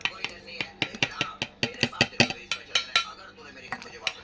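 Spoon and fork mixing a salted snack mix with Kurkure in a bowl, producing rapid rhythmic metallic clinks and scrapes against the dish, close and busy, with faint voices in the background.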